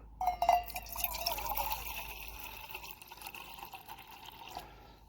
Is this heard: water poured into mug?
yes